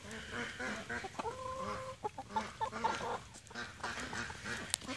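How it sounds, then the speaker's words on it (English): A chicken clucks close by in short, irregular calls over steady outdoor background noise. "look at that chicken right there"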